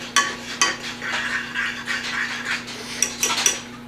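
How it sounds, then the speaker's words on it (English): A utensil stirring food in a bowl gives a series of light clinks and soft scraping strokes, with sharper taps near the start and end, over a steady low hum. "we're going to stir that up a little bit"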